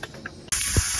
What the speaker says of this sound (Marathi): तांदूळ टाकून फायनल करून आपलं कुकर करून ठेवला